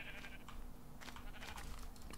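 Minecraft sheep bleating in a few faint, wavering calls over soft clicking and low background noise, with no voices.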